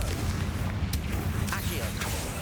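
A Confringo fire spell blast in the video game Hogwarts Legacy, set in a decaying catacomb: a dense, roaring burst with sharp cracks inside, loud and sustained across the moment.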